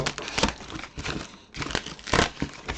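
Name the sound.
paper crumpling while packing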